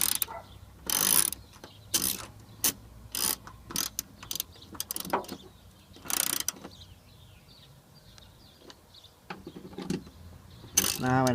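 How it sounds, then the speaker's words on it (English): A ratchet clicks in short bursts while parts of a Honda Odyssey sliding door are tightened, close mechanical ratcheting with pauses and light handling noise between. "Now what I'm doing, I'm tightening everything."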